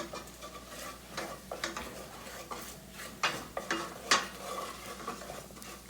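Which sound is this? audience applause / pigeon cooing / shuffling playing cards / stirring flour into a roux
stirring flour into a roux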